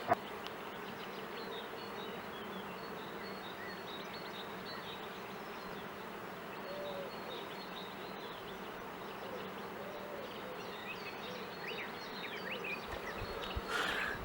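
A dense, steady hum of many honey bees buzzing close by around a hive during colony splitting, continuous and even throughout, with a brief knock at the start and near the end.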